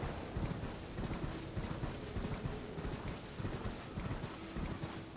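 Rapid, rhythmic hoofbeats of a galloping horse in the video game Elden Ring, steady and continuous throughout, with no voices.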